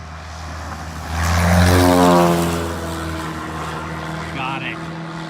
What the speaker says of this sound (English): This is how planes pick up banners.